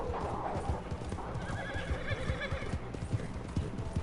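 Horse hooves clip-clop steadily at a gallop in the Red Dead Online video game, a fast rhythmic pounding close up with a brief whinny mixed in, while wolves give chase.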